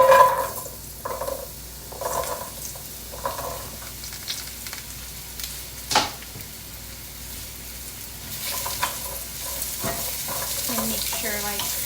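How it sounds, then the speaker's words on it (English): Sweet potato frying in a little oil, a steady sizzle with stirring and scraping noises on and off throughout, fairly close and without talk. "So a little bit of oil. And I'll get my sweet potato in."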